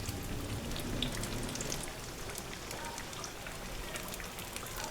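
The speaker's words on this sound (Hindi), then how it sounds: "ये अब अच्छी तरह से फ्राई हो गए हैं।" Chicken pinwheel samosas fry in oil in a flat pan with a soft, steady crackling sizzle, faint and even throughout, with no talking.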